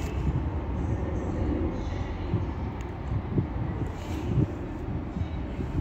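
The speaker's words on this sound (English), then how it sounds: "There's the other East Midlands Railway service." An East Midlands Railway passenger train at Stockport station on the West Coast Main Line, heard as a steady low rumble of wheels and motors close by, with faint rail squeal and clanks throughout.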